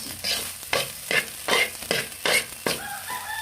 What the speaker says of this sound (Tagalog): luto tayo. Fried rice ako